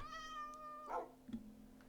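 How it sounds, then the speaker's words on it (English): A cat in the Minecraft video game gives a single clear, drawn-out meow followed by a short second mew, fairly quiet against a steady background hum. "This cat is not mine."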